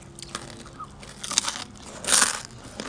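Crunchy homemade crispy pork rinds being bitten and chewed close up, with a few sharp crackly crunches rising out of quiet chewing, the loudest crunch near the end.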